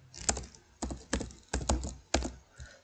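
Someone types HTML code on a computer keyboard in short bursts of quick, close key clicks and thumps, five clusters separated by brief pauses.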